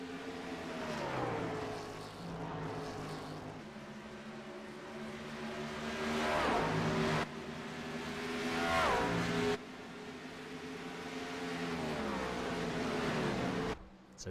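Race cars on the Dover oval during a National Speed Association race, engines rising and falling as several cars pass by one after another, rather distant and faint, with clear pitch sweeps from revving motors.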